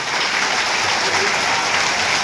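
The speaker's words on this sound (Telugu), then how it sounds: "ఒకసారి మీ ఉపాధ్యాయులందరికీ గట్టిగా క్లాప్స్ ఇవ్వండి" An audience at a school event applauds its teachers with loud, dense, continuous clapping throughout.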